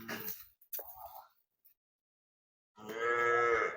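A dairy cow on a farm lets out one loud, drawn-out moo near the end, after a few short, quiet rustles and a long stretch of silence.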